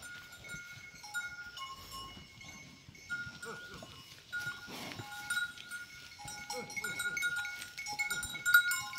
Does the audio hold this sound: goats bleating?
yes